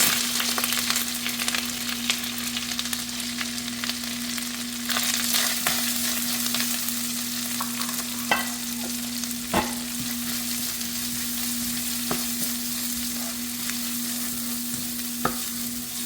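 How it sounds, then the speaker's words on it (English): Onions frying in a pan as a makhana kadhi is cooked, a steady close sizzle with occasional stirring clinks and scrapes running throughout, no talk. "we are going to add the onions"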